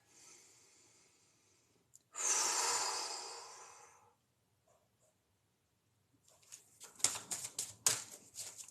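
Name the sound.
a person taking a deep breath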